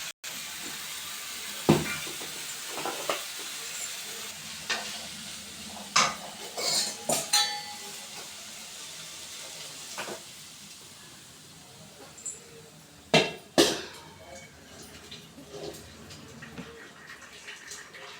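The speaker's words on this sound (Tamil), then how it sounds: "நாங்கள் இது மாதிரி தான் வந்து சாதம்லாம் வடிப்போம்" Cooked white rice being drained of its starchy water in a home kitchen, the pot tipped with a tumbler wedged in to hold it steady: a soft running trickle and wash with sharp metallic clinks and knocks of the pot and lid scattered throughout.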